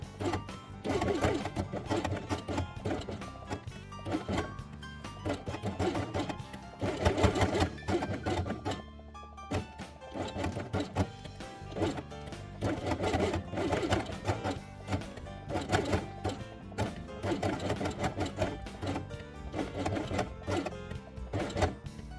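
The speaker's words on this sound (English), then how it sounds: "And sew head along the edge with white thread." A sewing machine stitching felt with white thread for a felt dollhouse, running in a rapid, steady mechanical whir across several long bursts with a short pause midway.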